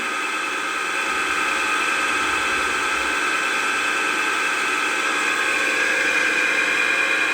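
A DC shunt motor runs at 1470 rpm on a lab bench, giving a steady loud electric whine with a layered high hum and even noise, with no talk.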